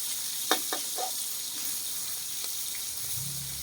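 Garlic frying in a pan for stir-fried long eggplant, a soft steady sizzle with a few light clicks of utensils near the start and a faint low rumble toward the end.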